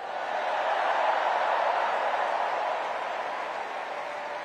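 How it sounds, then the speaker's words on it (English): A large crowd at the Democratic National Convention applauds the First Lady in a continuous, dense wash of clapping and cheering that swells and then eases slightly. "Let's give a special round of applause to our First Lady, Jill Biden."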